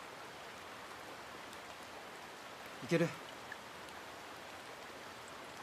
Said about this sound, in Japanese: あ、雨止んできた。